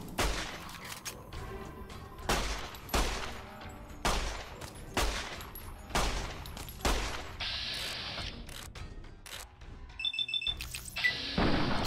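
Repeater rifle gunfire in Fallout: New Vegas: a series of sharp, loud single shots spaced roughly a second apart, each followed by brief mechanical clatter, ending with a higher metallic ringing tone.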